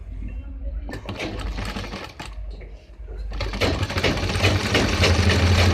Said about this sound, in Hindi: इसके ऊपर एक पैर की सिलाई लगाएंगे